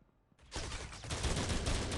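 Automatic gunfire in the mobile shooter Critical Ops, starting abruptly as a dense, continuous burst that grows louder and holds steady to the end.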